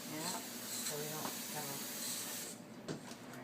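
Olive oil sprayed onto a bread pan gives a steady close hiss with a few short puffs, under a brief voice in a home kitchen.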